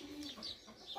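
Chickens cluck softly at a distance in a quick, faint series of short calls.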